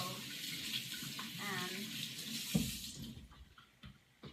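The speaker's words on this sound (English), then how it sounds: "I'm going to wash my hands." Hands washed under a running kitchen tap, water streaming and splashing for a few seconds before tapering off, with a little background voice.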